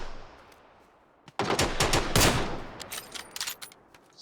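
Gunfire in a shooting video game: a loud, dense burst of rapid shots breaks out after a quiet stretch, then thins into scattered sharper shots toward the end.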